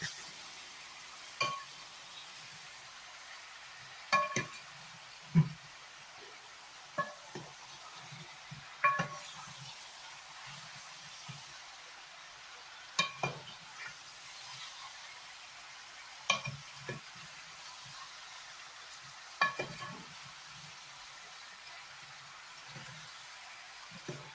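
Mango pickle is stirred in a pan, with soft scattered scrapes and faint clinks recurring every few seconds over a quiet, low background hiss.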